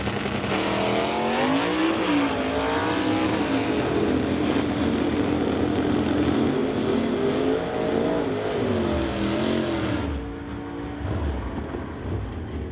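A 1967 El Camino and a Comet drag race at a strip, loud engine roar with rising and falling revs sweeping through gear changes for about ten seconds, then fading as the cars pull away.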